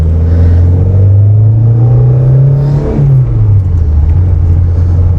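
A 1970s Renault 17 coupé with a carburettor engine pulls away, its loud close engine note rising steadily through one gear, then dropping briefly at the shift and settling into a lower drone.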